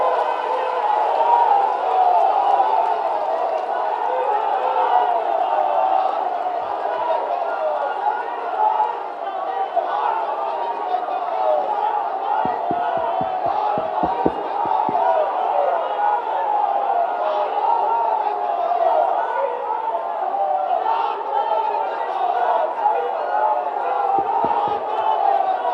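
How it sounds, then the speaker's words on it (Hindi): Large crowd at an outdoor political rally for the Bihar chief minister in Munger, a dense continuous roar of cheering and shouting with scattered clapping that holds steady throughout. "जोरदार तालियों के साथ स्वागत।"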